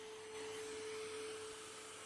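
A vacuum cleaner running with reduced airflow gives a steady, fairly quiet whirring drone with a constant pitch that holds evenly for about two seconds, with no talking.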